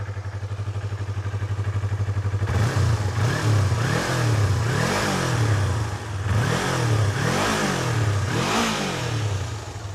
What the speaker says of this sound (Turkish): Bu tabi stok egzoz. Üzerinde gelen egzozu.